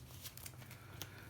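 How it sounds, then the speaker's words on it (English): Marvel Legendary game cards are shuffled quickly in a soft flurry of riffling and snapping taps, faint and close, with a sharper flick near the end. "I'm going to shuffle this real fast"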